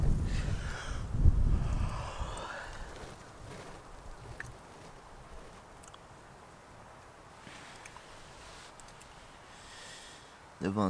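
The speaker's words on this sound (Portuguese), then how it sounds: "e tá ventando muito, cara." Strong wind gusting around a diamond tarp shelter at a bushcraft camp before dawn, with a loud rumbling burst near the start that settles into a steady low roar and faint rustling.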